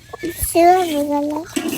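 A hen among chickens cared for by small children gives a drawn-out, wavering call lasting about a second, set between brief voices and light clucking nearby.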